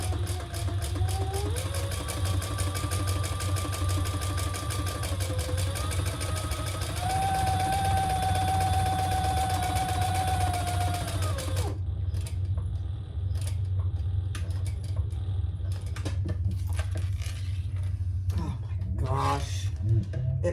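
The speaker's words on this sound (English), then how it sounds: "So I'm gonna sew down each side." A sewing machine stitches down the sides of a small vinyl wallet, its motor whirring steadily and rising in pitch for about twelve seconds before stopping, followed by quieter handling sounds.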